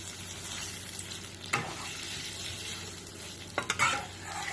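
Paneer frying in a pan with a pinch of salt sprinkled over, a steady soft sizzle running throughout, broken by a few louder clattering stirs near the start and again toward the end.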